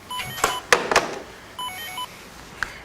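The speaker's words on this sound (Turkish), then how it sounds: "Dur telefon çalıyor" A telephone rings indoors with short electronic tones and beeps in separate bursts, fairly close and clear against quiet room background.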